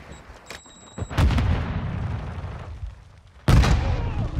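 Grenade blasts in a Modern Warfare 2 Search and Destroy match, with two loud booming explosions, the second one sharper and heavier. Fainter game noise sits between them.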